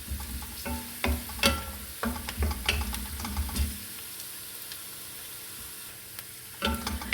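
Pirandai (adamant creeper) sautéing in sesame oil, crackling and sizzling steadily in a pan with repeated scraping stir strokes, loud and close, quieting toward the end with a last clatter of stirring.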